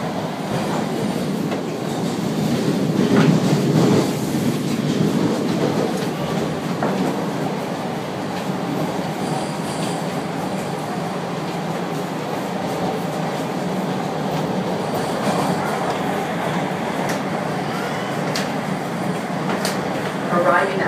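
A Toronto subway train pulls into Dundas Station with a sustained low rumble and rattling car noise, brakes squealing faintly as it slows, while voices murmur inside the car throughout.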